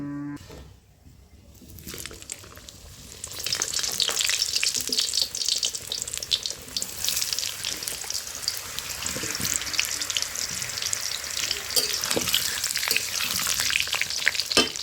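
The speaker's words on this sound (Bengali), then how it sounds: "বেরেস্তা ভাজা তেলেই আমি আলুগুলো ভেজে নেব" Potatoes fry in oil left from browning onions, starting in near quiet and then swelling into a loud, crackling sizzle that holds steady to the end.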